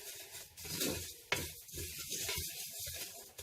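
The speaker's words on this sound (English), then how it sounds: "And continue to stir it till it becomes crispy." Cassava gari fries in a pan over medium heat while being stirred, with a soft steady sizzle, scraping strokes and one sharp clink of the utensil against the pan.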